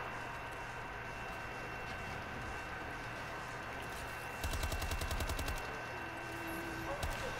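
Rapid gunfire from a weapon in Call of Duty: Advanced Warfare zombies mode: a dense burst of close, loud shots in the middle, over a steady game ambience with a low hum.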